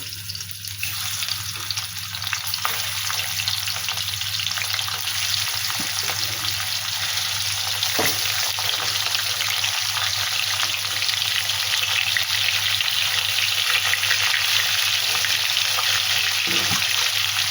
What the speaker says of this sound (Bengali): এবারে আমি তেল গরম হয়ে গেছে এবারে আমি মাছগুলো ভাজতে দেব